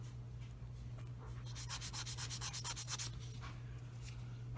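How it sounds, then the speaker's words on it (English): Sanding a plastic part of an Eduard 1/48 Bf 109E-3 scale model aircraft kit: a close, steady run of quick rhythmic back-and-forth rasping strokes over a constant low electrical hum, no talking. "we'll just sand this"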